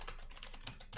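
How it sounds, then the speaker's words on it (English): Rapid keystrokes on a computer keyboard, a quick irregular patter of light clicks, faint and close, with no voices. "Now I'm just typing in names."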